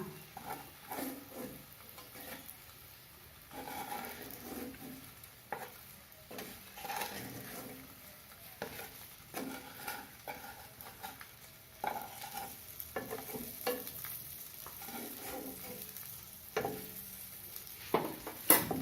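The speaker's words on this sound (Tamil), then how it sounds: "முட்டை வறுவிட்டது போதும் இப்போ திருப்பி விட்டுக்கலாம்" Eggs frying in a pan over a low flame for a spicy egg pepper gravy, giving a soft, steady sizzle with occasional scraping and stirring from a utensil. No talking.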